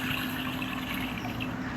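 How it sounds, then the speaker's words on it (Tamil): Water gushes steadily into a pot of chicken on the stove, a close, continuous pouring sound with no talk. "மொத்தம் 2 லிட்டர் தண்ணி நம்ம இதில் ஆட் பண்ணுறோம்"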